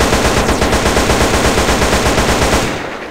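Rapid, continuous AK-47 fire in GTA San Andreas, loud and steady for about three seconds before trailing off.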